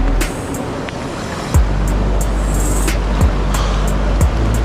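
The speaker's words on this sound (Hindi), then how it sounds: "ये डायरेक्ट स्नो से मेल्ट होकर के पानी आ रही है" Ice-cold snowmelt river near Manali rushing steadily, a loud, close, continuous roar of flowing water filling the whole scene without any voices.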